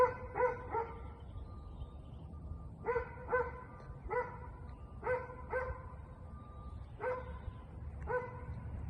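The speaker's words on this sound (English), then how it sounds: "What she's barking about?" A dog barks repeatedly from a short distance, in bursts of two or three sharp barks separated by brief pauses.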